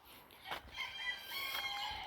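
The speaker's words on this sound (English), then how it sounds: "I hear you, chickens." Backyard chickens cluck and a rooster crows briefly, fairly close but soft, in a quiet garden setting.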